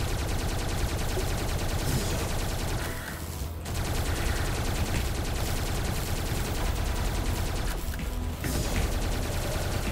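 A gun firing continuously in the video game Tesla Force, a dense, steady stream of rapid shots lasting the whole stretch with two brief dips, loud and close over constant game noise.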